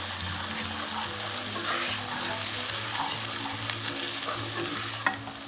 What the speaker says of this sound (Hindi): और साथ में प्याज भी ऐड कर देंगे, ब्राउन प्याज, और थोड़ा सा इसको भूनेंगे।